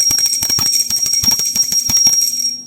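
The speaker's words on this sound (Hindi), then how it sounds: "तो घंटी बजाकर हम लगा लेंगे भोग।" A small prayer bell rung by hand during Hindu worship, offering food to the deity on Rang Ekadashi: rapid, repeated bright metallic strikes with a sustained high ring, close and loud, fading out at the end.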